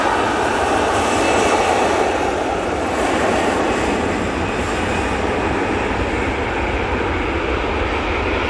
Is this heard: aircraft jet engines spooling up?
yes